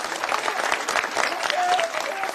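A crowd at a public political rally bursts into dense applause, many hands clapping at once in a busy, moderately close wash of sound, with a faint voice mixed underneath.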